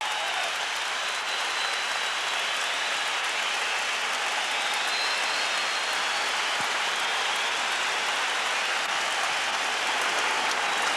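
At Ibrox, a large Rangers football crowd roars and applauds in a dense, unbroken hiss of noise as the teams come out for a Champions League match against Auxerre, distant and evenly sustained without any clear voices.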